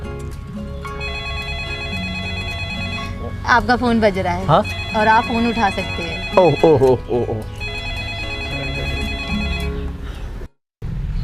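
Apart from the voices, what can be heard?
mobile phone ringing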